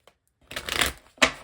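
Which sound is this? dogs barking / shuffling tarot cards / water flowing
shuffling tarot cards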